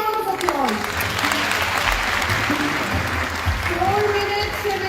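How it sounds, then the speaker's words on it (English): A studio audience claps at a live health show, steady applause running throughout while a voice talks over it and faint musical tones drift underneath. "A big round of applause."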